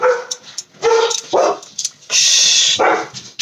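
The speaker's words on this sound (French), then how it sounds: "j'ai mes chiens qui aboient." Several pet dogs bark loudly and close by indoors, with sharp overlapping barks and yips in quick succession.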